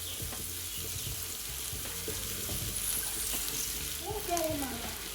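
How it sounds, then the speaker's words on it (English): Rice tossed into a hot pan sizzles and fries steadily at low volume, with faint stirring scrapes and a brief clatter toward the end. "So now it's time for me to add my rice."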